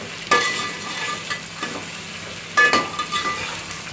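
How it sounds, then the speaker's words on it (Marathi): Tomatoes stir-fried in a pan, a steady low sizzle broken by a few sharp scraping stirs of the spatula, close and fairly loud with no voices. "टमॅटो टाकले परतून घेते."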